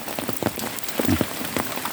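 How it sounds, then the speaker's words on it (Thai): Rain falls steadily in Thailand, a close, dense patter with scattered heavier drops hitting a surface, loud and continuous with no talking. "ฝนมันตกพี่น้องเนาะ"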